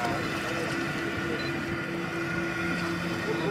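Wind buffets the microphone outdoors, a constant, loud rumbling roar with a faint steady tone running beneath it.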